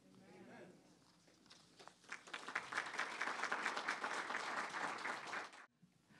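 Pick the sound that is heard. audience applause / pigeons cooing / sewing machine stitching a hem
audience applause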